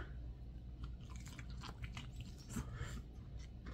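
Crunchy bites into a crispy smoked chicken wing drumstick, with close, quiet crackling chews recurring through the few seconds and no talk.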